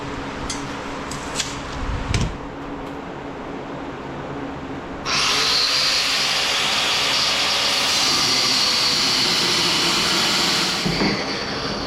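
A power tool working on bolts in a workshop building a tubing bender starts with a few knocks, then kicks in halfway through as a loud, sustained bright whine that runs steadily for several seconds before cutting off near the end.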